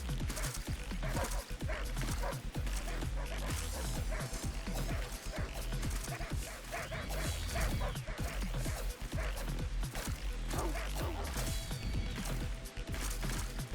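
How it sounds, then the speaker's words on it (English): A pack of beagles barks relentlessly in Tokyo Jungle, overlapping yips and bow-wows coming thick and fast over a busy game backdrop, loud and constant from start to finish. "Dude, how are there so many fucking beagles?"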